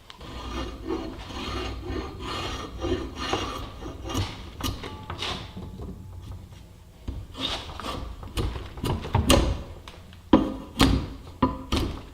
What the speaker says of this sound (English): we're going to cut off these corners with a draw knife